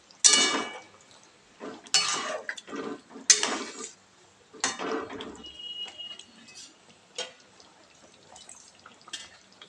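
Ground rice and cashew paste stirred into a pot for radhaballavi batter: a series of wet scraping, clattering bursts of utensil against metal, irregular and close, with quiet pauses between.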